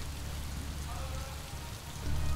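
Soft, steady rain hiss, faint and continuous, with a slight rise in low rumble near the end.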